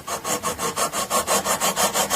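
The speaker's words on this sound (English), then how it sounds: "What's good about using this little beam here is that it's using 220 sandpaper as well" A beam wrapped in 220-grit sandpaper is rubbed back and forth across the frets of a Chapman ML-2 Gold Top guitar, making a steady rhythmic rasping with about a dozen quick even strokes, close and loud.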